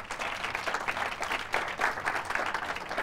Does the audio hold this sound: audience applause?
yes